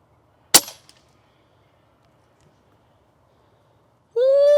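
A single sharp gunshot at a target cracks out loud and close with a short echoing decay, followed by near silence in the wind and then a sudden rising tonal whine at the end.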